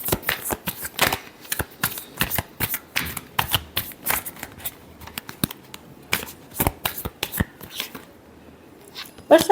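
Tarot cards are shuffled close up in quick bursts of crisp riffling and slapping, irregular clusters of sharp card snaps separated by short pauses.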